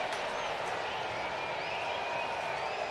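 A Phillies baseball crowd in Philadelphia during a game against the Tigers, a sustained, even wall of cheering and clapping with faint whistles, dense and continuous from start to finish.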